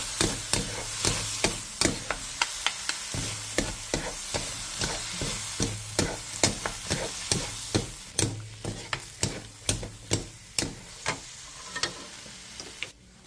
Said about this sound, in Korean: 2분 정도 더 볶아주세요.